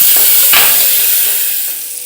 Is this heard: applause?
no